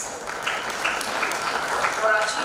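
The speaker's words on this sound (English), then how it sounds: "Kindly give a loud round of applause" Audience applauding at an awards ceremony honoring inspiring women as the chief guest is called on stage; steady, moderately loud clapping throughout, with some voices mixed in.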